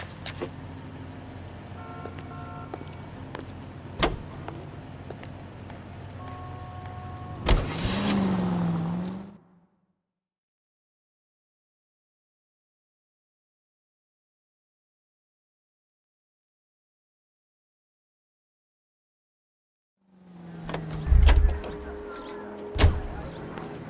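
A car drives in the L.A. Noire video game, a steady engine hum with a few thuds, then a long stretch of complete silence before the engine sound and heavy thumps return.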